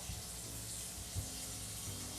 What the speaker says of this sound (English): Be sure that the water is coming down onto the thermometer.